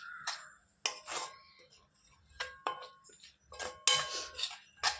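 A spoon scrapes and knocks against a pot while mango pickle is stirred, giving irregular clinking metallic strikes and scrapes, close and fairly quiet, with short gaps between them.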